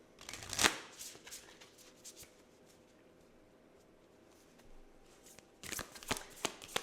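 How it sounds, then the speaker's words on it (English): A deck of Moonology oracle cards is shuffled in bursts of quick riffling, soft and close, with a quiet pause in the middle before a final flurry of shuffling. "Let's go ahead and get a Moonology card for some more clarity."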